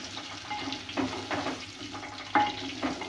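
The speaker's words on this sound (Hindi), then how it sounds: "पहले हम इसे डालकर अच्छी तरह भून लेंगे" Potatoes being fried with browned onions, a low bubbling sizzle with short stirring bursts and a sharp metallic scrape near the end.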